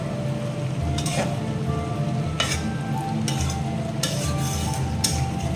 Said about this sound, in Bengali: খুব ভালো করে মশলার সাথে মিশিয়ে দেবো।